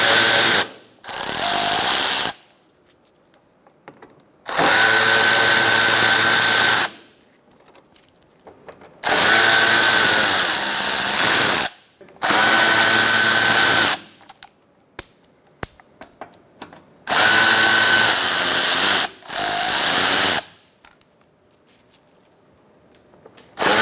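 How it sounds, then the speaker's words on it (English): Power drill fitted with a T30 Torx socket removing screws from the front of a 2012-2018 Ford Focus during AC condenser replacement; loud whirring bursts of a few seconds each, repeated six times with quiet pauses between, no talking. "Using a T30 Torx socket,"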